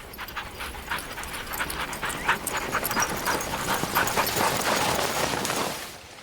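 A team of sled dogs runs along a compacted snowmobile trail in wintry Sweden, their paws pattering quickly and steadily and their panting rising close by over a continuous whoosh of movement.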